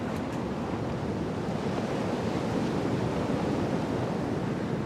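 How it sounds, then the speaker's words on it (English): Ocean swell breaks on a reef in Fiji, a steady, even roar of surf carried on wind, moderately loud and continuous from a distance, with no talking. "These waves have traveled for thousands of miles from a storm here off Antarctica, all across the ocean"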